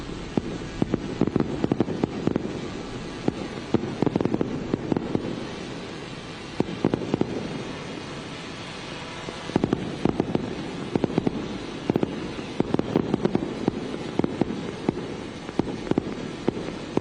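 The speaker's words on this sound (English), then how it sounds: "Fireworks being displayed there." Fireworks display at a presidential inauguration ceremony, a long run of sharp cracking bursts and pops in clustered volleys over steady crowd and ambient noise, heard from a moderate distance.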